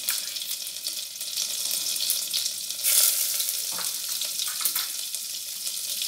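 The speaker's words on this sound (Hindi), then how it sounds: "एक बर्तन चढ़ाए हैं, उसमें हम घी डाल देते हैं" Ghee and butter sizzling in a pot on the stove for veg biryani, a steady close hissing crackle throughout with a slight surge near the middle and no talk.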